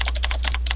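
Fast, light typing on a computer keyboard while renaming an Excel 2007 macro button, a quick run of close, crisp key clicks.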